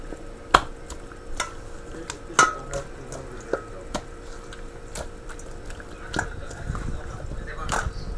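Chicken being mixed by hand with fresh herbal seasoning, soft wet squelching and light clicks against the bowl in irregular bursts, with a voice talking over it.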